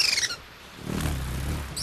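Male firecrown hummingbird on a Chilean island giving short, high, thin chirping calls at the start and again at the end, with a low rumbling background in between.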